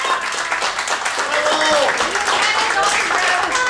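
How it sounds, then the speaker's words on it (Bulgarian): Guests at a 37th birthday party applaud the woman being celebrated, sustained loud clapping mixed with cheering voices and shouts throughout. "Нека да я аплодираме, наистина ги заслужава."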